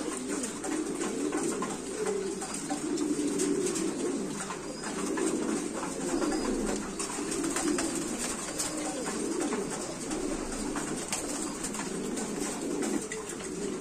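Qalmon Gaditano pigeons, a pair in a pigeon house, coo steadily and repeatedly at moderate distance over a continuous bed of background noise, with no talking.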